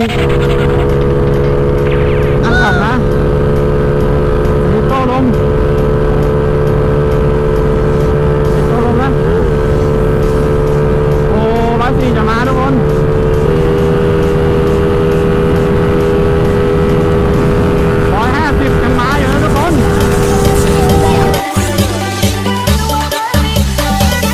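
A vehicle fitted with a single exhaust pipe drones steadily as it is driven, engine note rising and shifting with throttle, loud and close, ending in rougher rumbling, with someone talking over it.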